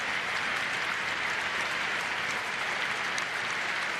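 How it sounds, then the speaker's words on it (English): Cricket crowd at a Surrey vs Somerset Vitality Blast match applauding batsman Jamie Smith off the field, a dense, steady wash of clapping throughout, sustained and full without pause. "Smith walks off to a standing ovation"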